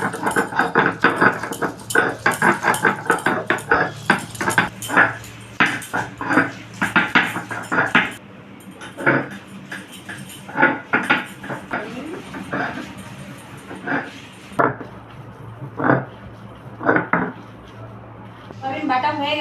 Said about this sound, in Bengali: অনেকে মিক্সিতে বাটে, আমি শিলনোড়ায় বেটে নিয়েছি